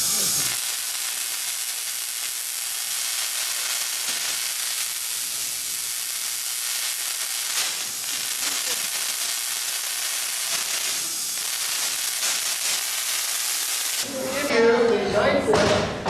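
A 9-foot, 4.5 million volt Tesla coil at the Spark Museum in Bellingham, discharging sparks in a loud, continuous crackling hiss that runs unbroken for many seconds before cutting off into a brief muffled rumble.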